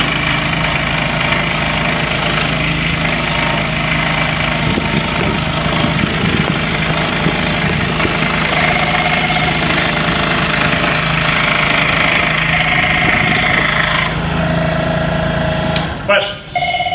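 A scroll saw cuts along a marked line without relief cuts, giving a loud, steady mechanical buzz that runs for about fourteen seconds before dropping away, with some clatter at the end.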